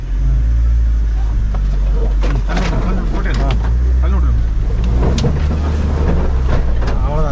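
A vehicle engine left idling while stopped in a forest farming area, a loud steady low rumble that runs throughout beneath people talking.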